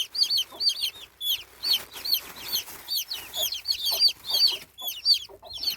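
Hen and chicks, with many high, rapid chick peeps in quick overlapping bursts throughout, fairly close and lively.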